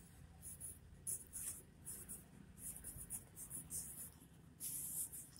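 Hindi words being handwritten during a second-grade lesson: a steady run of soft pen or marker strokes on paper, close and quiet, in short scratchy bursts with brief pauses between words.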